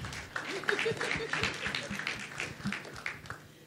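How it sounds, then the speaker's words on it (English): An audience at a music education panel discussion breaks into applause, a dense patter of many hands clapping in a hall, fairly close and sustained for a few seconds. "I think that is where we clap."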